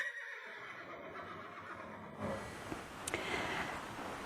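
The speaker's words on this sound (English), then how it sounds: "This is a barrel racing horse." A barrel racing horse gives a faint neigh, a whinny that rises out of quiet background noise partway through, with soft rustling around it and no talk.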